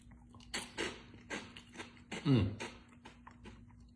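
Crunchy, light shrimp-flavored puffed snack, similar to rice cereal, being chewed close up: several crisp bites and crunches in an irregular rhythm, with a quiet background.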